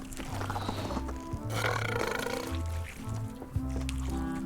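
A character belches in Return to Monkey Island during a burping contest: a series of low, croaking burps in bursts over a tinny pirate-game music bed, with no talk.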